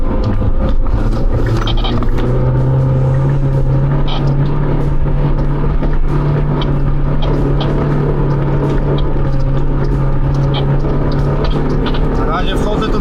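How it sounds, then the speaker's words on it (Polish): An off-road car on a Romanian mountain expedition is floored in first gear at full throttle, its engine roaring loud and close in a steady, sustained drone for the whole stretch. "Dawaj Paweł, jedyna i opór w gaz."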